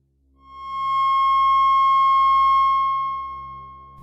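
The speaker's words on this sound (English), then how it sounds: "the octagon, where we get 1080, another C sharp" A pure, steady electronic tone pitched at C sharp swells in smoothly, holds evenly for a few seconds, then fades gently, sounding alone with no other noise.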